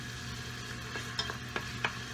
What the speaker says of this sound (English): you can hear now that the bacon is starting to sizzle.